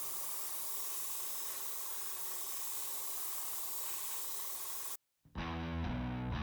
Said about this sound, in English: You can't see it in the video, but trust me, I sprayed Mr. Hobby Gloss white.